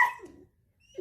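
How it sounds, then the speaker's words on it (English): A puppy gives a single short, sharp bark at the start, then it fades into near silence before a faint sound at the end. "why are you snipping at me, puppy?"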